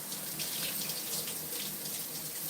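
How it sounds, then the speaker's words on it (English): Steady rush of a kitchen faucet running while fingers are rinsed under it during BLT preparation, continuous and close with no talking. "I'm gonna rinse off my fingers real quick here."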